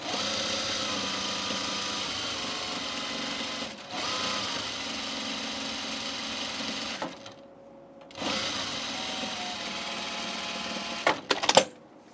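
A sewing machine stitches fabric for a Teia dress in steady, continuous runs, stopping briefly around four and seven seconds, then ending with a few sharp clicks and clunks.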